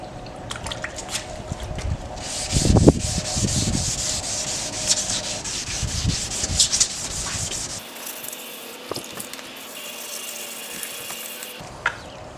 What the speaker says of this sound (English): now we're going to start sanding